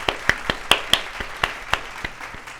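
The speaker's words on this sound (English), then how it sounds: "let's give them a round of applause." A few hands give a sparse round of applause, with about a dozen distinct, evenly spaced claps close to the listener and no talking.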